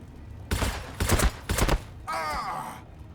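Gretchin troops in a Warhammer strategy battle fire three quick, loud bursts of gunfire in succession, followed by a short grunting voice effect.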